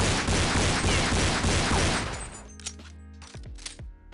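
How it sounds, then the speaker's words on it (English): The unsilenced USP (K&M) pistol in the original Counter-Strike fires in a dense, loud burst of crackling shots for about two seconds. A few sharp metallic clicks and cracks follow as it fades. "In the original Counter-Strike, the unsilenced K&M sounded like this."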